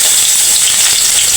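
Onion and garlic sautéing in hot oil, giving a loud, close, steady hiss and crackle that continues unbroken throughout.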